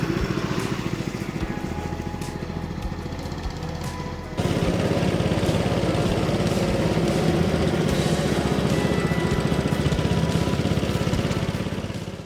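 Small go-kart engine at an amusement park, buzzing and droning continuously at a moderate distance, with a shift in pitch and loudness partway through as the kart revs up.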